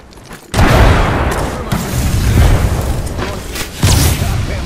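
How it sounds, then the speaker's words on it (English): A grenade goes off in the Apex Legends video game on PS5, a loud boom followed by sustained rumbling debris and gunfire, with a second burst near the end. "Look out, grenade!"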